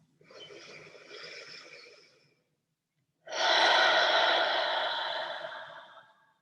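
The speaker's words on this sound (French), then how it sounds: "Quelques grandes respirations, entre 5 et 8. On peut expirer par la bouche ici, on inspire." Deep breaths during a yin yoga session: a softer inhale-exhale of about two seconds, a pause of silence, then a louder, fuller exhale through the mouth lasting about three seconds, close and breathy with no talking.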